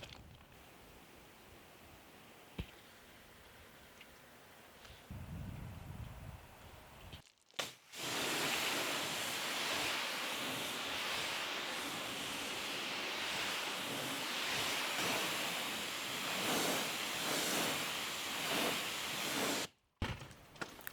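Water spray rinsing iron fallout remover off a dirty car's exterior in winter, a loud continuous hiss of pressurised water close by for about twelve seconds, starting abruptly after quieter handling sounds and cutting off sharply at the end.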